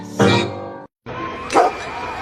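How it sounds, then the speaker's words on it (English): A dog barks twice in short, loud bursts close by on a street, with a brief silence between the two yaps. "your dog messed up my shot"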